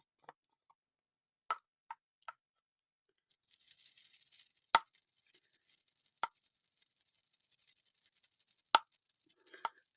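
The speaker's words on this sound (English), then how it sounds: "Sorry about the noise from my bracelet" A bracelet clicks and clatters sharply in scattered single taps while makeup powder is handled, and a soft, continuous rustling scrape runs under the later taps, all close and fairly quiet.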